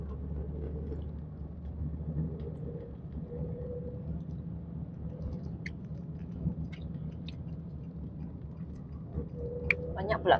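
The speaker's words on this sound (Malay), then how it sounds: "Banyak pula kereta sini sekarang." Cars passing on a road during a long drive back to a village, a steady low traffic rumble running throughout with a few brief higher clicks and knocks near the end.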